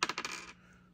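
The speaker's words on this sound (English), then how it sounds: "I'm going to roll this dice first and see what I get." Dice tumbling across a board during a Mouse Trap game, a quick burst of several light clattering hits lasting about half a second, then settling into quiet, close and fairly soft.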